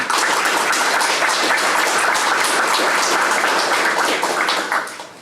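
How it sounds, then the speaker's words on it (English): Audience applause at a bank's LEED Gold plaque award ceremony: loud, dense clapping from a crowd that carries on evenly for several seconds, then tapers off at the close. "they deserve a round of applause for what we did"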